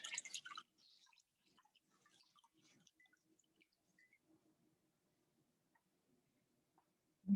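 Water drips from a well-soaked flannel cloth in sparse, faint, irregular taps, with a brief louder rustle at the start and a soft thud at the end.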